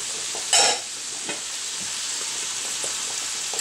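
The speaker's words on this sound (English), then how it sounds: "So just frying that up." Steady sizzling and crackling of sauerkraut frying in a pan, with a louder burst of spatter near the start and a few stirring scrapes.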